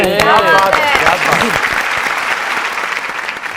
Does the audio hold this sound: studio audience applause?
yes